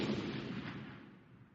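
A distant blast from excavation work near a river, heard as a broad, rumbling roar that starts loud and slowly fades away over a second and a half, with no voices.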